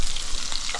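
Fish fries in a pan with a short burst of dense, even sizzling, close and fairly loud.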